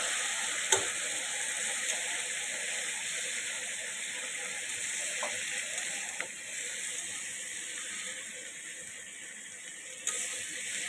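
Mustard and poppy seed paste fries in a pan with fish. A continuous fine sizzle hisses throughout, with a few sharp clicks and taps from a utensil now and then, and no talking.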